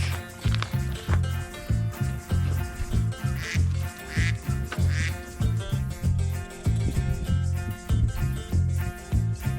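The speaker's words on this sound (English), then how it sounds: "See some ducks, some geese," Ducks quack over and over in a noisy, overlapping chorus, close by and fairly loud, with a few higher calls mixed in.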